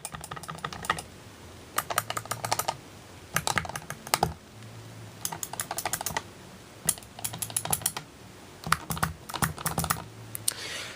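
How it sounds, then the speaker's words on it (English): A computer keyboard is tapped in quick bursts of clacking keypresses, each burst separated by short pauses, close and fairly quiet with no talking. "So I'll give you guys a quick one more quick pressing of all the buttons, so you guys can hear how they sound."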